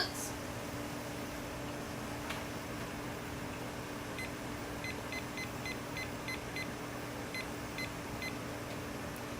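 A small kitchen timer gives a string of short, evenly spaced beeps as it is set, faint and close against a steady hum of background noise.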